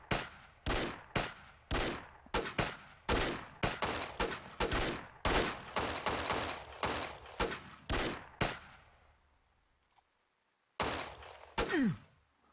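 Rapid gunfire in the Old West game Bounty Train, a long run of sharp shots in irregular bursts, then a brief silence before a few final shots and a groan.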